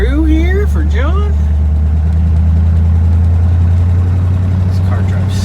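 A 1956 Ford Thunderbird engine runs steadily on a test drive, a constant low drone heard from inside the car, with a brief voice singing or talking near the start.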